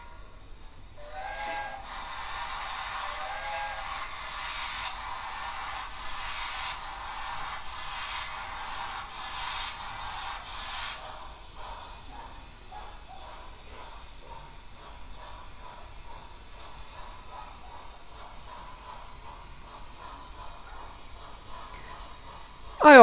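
A model railroad locomotive moves forward under smartphone throttle control, giving off faint onboard sound effects: a drawn-out whistle and a soft hiss. A sharp, loud click comes at the very end.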